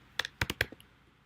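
A handful of quick computer keyboard keystrokes while titles are entered in iMovie, about five soft clicks close together, fairly quiet, with no talking.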